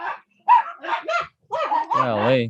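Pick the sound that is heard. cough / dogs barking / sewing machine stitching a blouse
dogs barking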